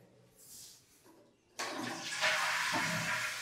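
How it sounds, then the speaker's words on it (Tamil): A western-style toilet in a house bathroom flushes with a sudden loud rush of water that swirls and drains steadily, heard close up after a few quieter handling sounds. "தண்ணி அமுச்சு விட்டேன், ஐயோ தண்ணி வேஸ்ட்டாக போகுது."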